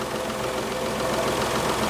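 A Daihatsu L251 Charade engine idles steadily, a low, even mechanical hum with a faint regular knock, close and continuous with no talk.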